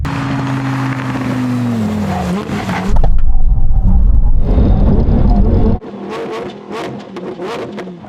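A heavy wagon and a lightweight supercar run a brake test: a steady engine drone gives way to a loud, rushing roar of hard braking and tyre noise, then fades to a quieter idle. No one speaks.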